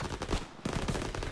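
Bursts of rapid gunfire from the video game Call of Duty: WWII campaign, loud and close, with a brief gap before the shooting resumes.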